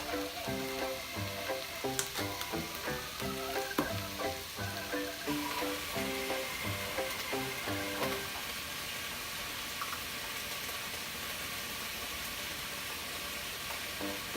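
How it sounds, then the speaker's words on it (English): Vegetable stock and water poured into a soup pot on the stove for a creamy vegan Thai carrot soup, then stirred; steady sizzling and liquid sounds fill the kitchen, with spoon clinks and clatter early on and a continuous steady hiss later. "Add veggie stock and water and stir."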